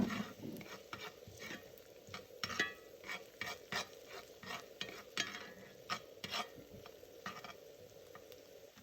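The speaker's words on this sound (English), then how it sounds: "now I'm gonna add my garlic and let it start for a couple seconds" Garlic frying with onion and curry sauce in a pan gives a soft sizzle under repeated close scraping and stirring strokes in an uneven rhythm, with no talking.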